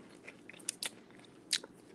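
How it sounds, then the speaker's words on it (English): Close crunchy bites into crusty bread, a few sharp crackling crunches spaced irregularly, with quiet chewing between them. "I love that crunchy bread"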